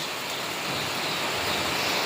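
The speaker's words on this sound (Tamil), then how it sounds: "நல்ல மழை காலையிலேருந்து நல்லா பெஞ்சுது" Light rain falls outdoors, a steady, even hiss of drops with no other sounds standing out, moderately close.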